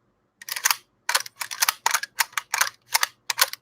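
A Beulah Defense AK rifle receiver is struck hard again and again, giving about nine sharp, close metallic clacks in an uneven rhythm, some doubled, with short silences between and no talking.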